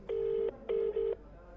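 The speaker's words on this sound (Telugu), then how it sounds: "మనం రింగ్ అవుతోంది ఫోన్" A phone line rings back during an outgoing call to a politician's phone, with clear electronic tones in a long-short-short pattern. It is moderately faint and heard alone.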